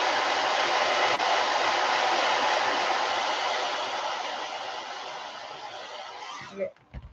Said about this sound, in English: If you want it to dry quicker, you can just use your hair dryer.